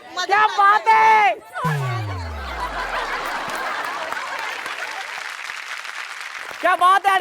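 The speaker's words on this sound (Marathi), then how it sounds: "टाळी द्या, वेरी गुड, क्या बात है" Audience applause at a Marathi women's game-show episode, a dense burst of clapping and crowd noise rising after a host's speech and holding steady for several seconds before the host's voice returns.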